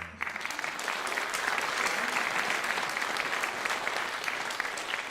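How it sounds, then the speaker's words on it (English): Full, steady applause for a student at an alternative graduation ceremony, a dense roar of many hands that holds evenly throughout. "So let's give him a little round of applause."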